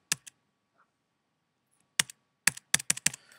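Computer keyboard keys pressed while formatting a document, a couple of isolated clicks, a pause, then a quick cluster of five or six sharp taps close by, with no talking.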